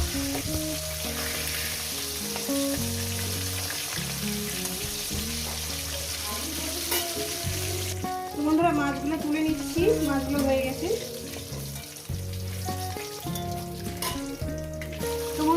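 Steady hissing sizzle of fish frying in hot oil, continuous throughout with background music playing over it.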